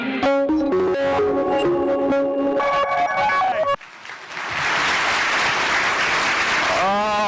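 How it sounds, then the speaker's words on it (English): Audience applause at a Cleveland Metropolitan School District State of the Schools address: after a stretch of music, loud, dense clapping breaks out and fills several seconds before a voice speaks at the end. "Give yourselves another round of applause for 3 stars."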